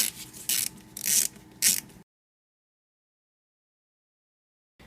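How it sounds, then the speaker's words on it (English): Hose clamps on a Toyota 2GR-FE V6 engine are tightened by hand with three short ratcheting bursts, close and clear, followed by silence. "Once you're happy with the hose placement, tighten these down real well."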